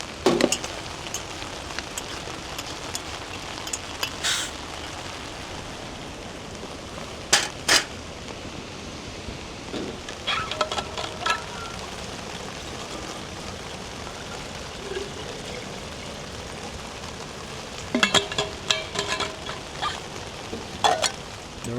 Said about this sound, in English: The rain started to come down a lot quicker than what I actually thought